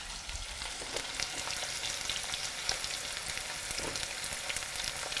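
Onions sautéing in oil with a little salt, giving a close, steady crackling sizzle with fine spattering pops that continues evenly throughout, with no voices.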